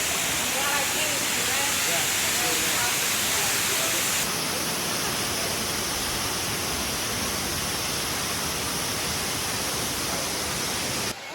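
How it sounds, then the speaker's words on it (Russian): A large, wide waterfall in a Bali jungle roars as a dense, steady wash of falling water that fills the whole stretch, loud and unbroken, with a voice faintly under the rush early on. "Вон и большой водопад."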